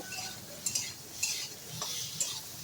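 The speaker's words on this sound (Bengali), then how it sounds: "কুমড়োটাকেও একটু ভালো করে নেড়ে চেড়ে একটু ভেজে তুলে নেব" Pumpkin pieces with salt and turmeric are stirred and fried in a pan, giving a faint, steady sizzle broken by a few soft scraping clicks of the spatula.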